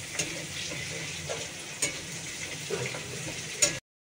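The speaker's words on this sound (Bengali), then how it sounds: "এটা ভেজে নিয়ে তারপর আমি দিয়ে দেবো চাল কুমড়োটা।" Shrimp frying in a pan, a continuous close sizzle with occasional light clicks and taps of a utensil, moderately quiet and cut off abruptly at the end.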